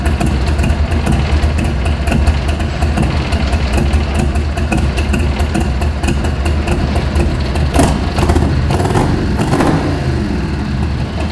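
A 1989 Harley-Davidson motorcycle engine runs steadily after a start without choke, a loud, close, continuous low rumble with a few blips of revving near the end.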